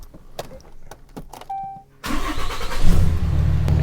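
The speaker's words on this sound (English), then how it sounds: "and then we'll start this truck up." A Ford cabover truck engine cranking and starting after a few clicks and a short electronic chime, then settling into a loud, close, steady idle.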